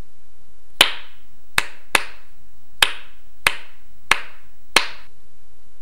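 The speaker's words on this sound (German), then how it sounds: "Jemand klatschte, hinter den Bäumen und Gräbern versteckt, langsam und laut Beifall." Someone claps slowly and loudly, hidden among trees and graves: seven sharp, evenly spaced single claps with clean silence between them, close and isolated.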